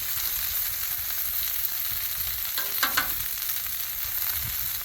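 Pre-made stir-fry vegetables frying on a Blackstone griddle give a steady, bright sizzle and hiss, with a few louder crackles near the middle.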